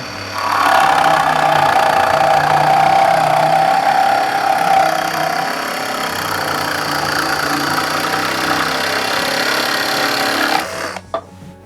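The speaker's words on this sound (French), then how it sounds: "je vais pouvoir me lancer dans la réalisation de ma découpe, et bien sûr comme d'habitude avec une scie sabre" A Bosch Pro GSA 12V-14 cordless reciprocating saw runs at maximum speed cutting through material, a loud steady buzzing drone for about ten seconds before cutting off abruptly near the end.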